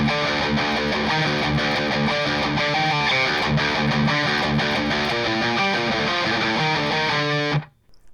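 Heavily distorted electric guitar riff played evenly with no accents, a continuous driving rhythm alone for about seven seconds before cutting off.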